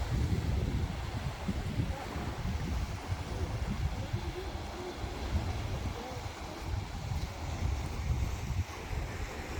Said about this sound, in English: I do have one video just kind of showing the ocean.